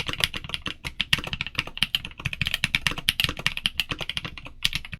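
Rapid typing on an MKC75 custom mechanical keyboard, close up, with crisp clacky keystrokes in a quick, uneven rhythm and no talking.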